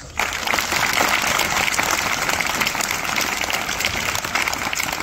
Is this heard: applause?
yes